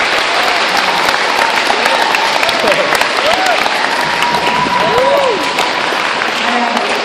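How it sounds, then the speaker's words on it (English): A middle school audience applauds loudly and continuously, dense clapping with scattered cheers and whoops rising over the crowd throughout. "give him a round of applause."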